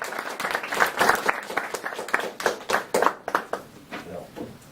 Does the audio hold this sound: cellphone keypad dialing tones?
no